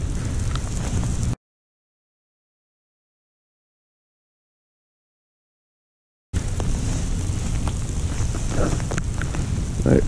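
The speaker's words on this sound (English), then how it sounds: "rain's starting to come down a little bit harder, and it's also hailing a bit" Steady rain mixed with a little hail falls outdoors during a fishing trip for striped bass and white perch, a broad continuous patter with a few sharper hits, broken by a long stretch of silence in the middle.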